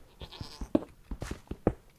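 A Minecraft goat bleats in the video game, giving a few short, faint calls scattered among soft game sounds.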